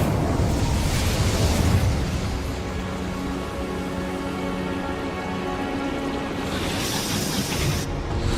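A fire spell cast in Hogwarts Legacy bursts out as a loud, roaring whoosh at the start, then settles into a steady crackling hiss that carries on for several seconds with no talking.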